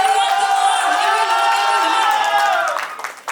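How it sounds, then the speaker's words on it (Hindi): A ring ceremony crowd whoops and cheers in a loud, sustained roar with mixed clapping, fading out near the end. "थोड़ा तालियां तो बजा दे, थोड़ा शोर तो मचा दे"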